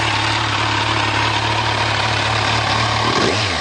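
A 2014 Kawasaki Z1000 ABS motorcycle idles through its exhaust with a steady, even mechanical rumble, close and alone, with a brief blip of revs near the end.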